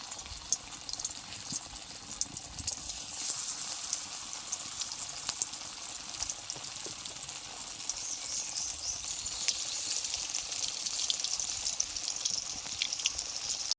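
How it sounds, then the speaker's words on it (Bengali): Vegetarian mock-fish pieces fry in hot oil, a soft continuous crackling sizzle heard close but fairly quiet and steady throughout, with no voices. "তেলটা গরম হয়ে গেছে, এবার মাছটা আমি ভেজে নেব।"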